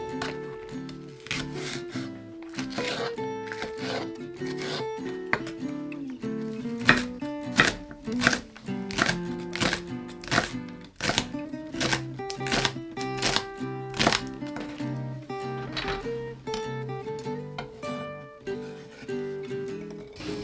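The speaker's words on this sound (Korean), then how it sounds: "파를 썰어 주세요." A knife chops green onion on a cutting board in quick, steady close knocks that run continuously and evenly throughout, with no voices.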